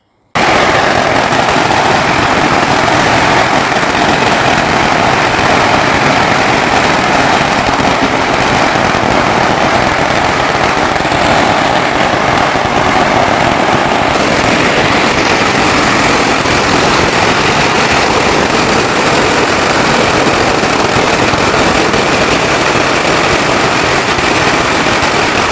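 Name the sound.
firecrackers bursting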